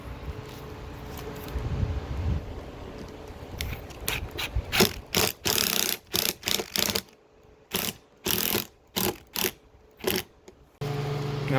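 A power driver sends 2-inch truss screws into roof trim on a travel trailer, giving a rapid mechanical ratcheting whir in repeated loud, close bursts separated by short pauses.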